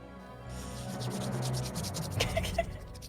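A deck of cards is shuffled by hand at a tabletop game session, a soft riffling and rubbing rasp that builds over a few seconds and ends in a couple of light taps, close and quiet.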